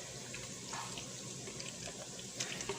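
Water poured gently from a container onto tomatoes for red rice, a soft continuous trickle and splash close by, quiet and steady for a few seconds with no talking.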